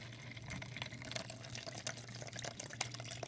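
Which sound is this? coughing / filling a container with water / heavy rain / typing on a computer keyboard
filling a container with water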